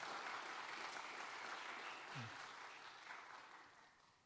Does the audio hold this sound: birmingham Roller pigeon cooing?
no